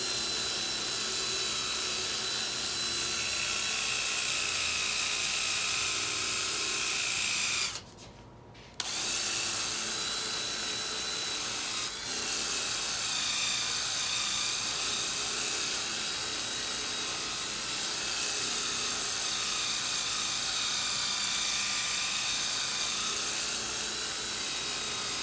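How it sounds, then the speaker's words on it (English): A rotary buffing polisher runs steadily on 2K clear coat sprayed over Krylon paint on a DIY speaker enclosure, working the edges with a continuous whirring drone that cuts out briefly partway through and then resumes. "Making sure my edges are polished out."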